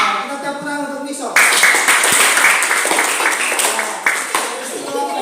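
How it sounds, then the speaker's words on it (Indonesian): Classroom applause from students clapping for a classmate, a sudden burst of many hands that starts after a moment of talk and continues steadily at close range, with a voice speaking over it. "Nah, kita tepuk tangan untuk Nixon."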